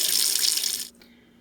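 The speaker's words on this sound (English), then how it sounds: "You can fill them up with water and then they get quite a bit bigger." Tap water running into sausage casings, a steady loud hiss of flowing water that cuts off abruptly near the end, leaving a faint quiet hum.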